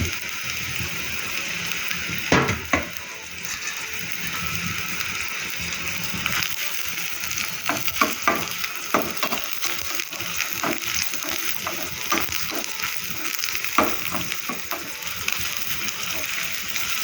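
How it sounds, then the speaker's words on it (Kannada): Thinly sliced onions fry in about a tablespoon of oil for a stingray fish curry, a steady close sizzle broken by repeated scraping and clicking of a spatula against the pan. "ಗೋಲ್ಡನ್ ಬ್ರೌನ್ ಬರುವಷ್ಟು ನಾವು ಇದನ್ನು ಫ್ರೈ ಮಾಡ್ಕೊಳ್ಳುವ."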